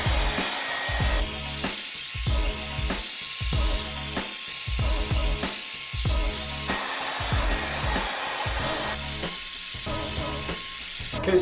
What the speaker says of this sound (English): blow into your hair with hot air while folding backwards to make your hair stand up and curl it backwards